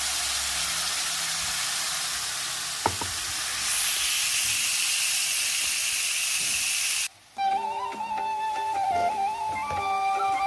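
Green spice paste fries in a pan with a steady, close hiss and sizzle for about seven seconds. The sizzle then cuts off abruptly and gives way to other tonal sounds.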